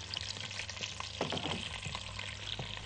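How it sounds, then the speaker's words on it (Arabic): Onion and garlic sautéing in ghee in a cooking pot give a steady, close sizzle and fry hiss throughout, with a few soft stirring scrapes and no talk. "سامعين بقى في الطاسه هنا او في الحله اسفه بتاعتي، البصل بدا يتشوح مع السمنه هو والثوم"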